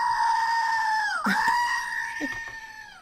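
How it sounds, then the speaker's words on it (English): A screaming goat sound effect is played loudly, a long nasal bleat with a warbling dip partway through, sustained for about three seconds without any talking. "So when I have a first-time buyer, I do the goat."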